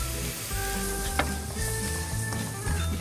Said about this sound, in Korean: 기름을 두르고 다진 마늘을 이렇게 볶다가